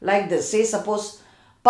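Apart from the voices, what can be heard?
No everyday noise stands out behind the speech.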